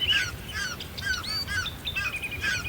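Small birds chirp and tweet in quick, bright bursts around the Vembanad lake wetlands, with several calls overlapping across a steady low background rumble.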